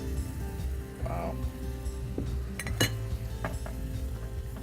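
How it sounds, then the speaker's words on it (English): Steady whisking of cheese sauce for venison macaroni and cheese in a pot, with soft scraping and light metallic clinks of the whisk against the pan, heard close and fairly quiet beneath a low background hum. "So you're just gonna sit here and whisk."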